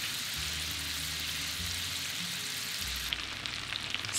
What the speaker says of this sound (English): Now carefully add 3 tablespoons of unsalted butter, 2 cloves of garlic that have been peeled and sliced in half, and 2 sprigs of fresh thyme to the pan. And let the butter melt in the pan.